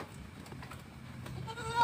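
A goat being treated for mange bleats just after an injection, a few short, fairly quiet cries close by, the last one louder.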